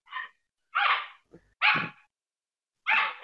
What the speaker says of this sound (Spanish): se está riendo el perro ese de fondo